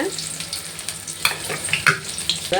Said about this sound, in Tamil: அப்புறம் கொஞ்சமாக வெங்காயம், ஒரு பச்சை மிளகாய் போட்டுருக்குறேங்க.